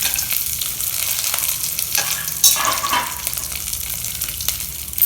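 Mustard seeds, urad dal, curry leaves and groundnuts frying in hot oil give a steady crackling sizzle throughout, with a louder burst of spattering and stirring near the middle.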